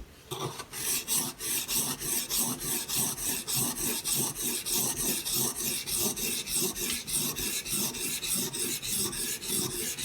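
A Benchmade Bushcrafter 162 blade rasps rhythmically back and forth across a sharpening stone on a Hapstone sharpener, working the bevel, steady repeated strokes close up, with no talking.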